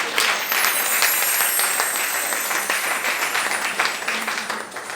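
A church congregation applauding Jesus during a French-language service, with loud, sustained clapping from a large crowd that fills the room and fades slightly toward the end.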